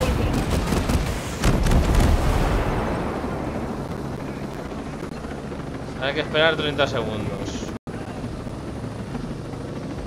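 Helicopter in the game Ghost Recon Breakpoint, with a steady rotor and engine drone holding under a voice speaking, mixed with other game sounds and bursts early on.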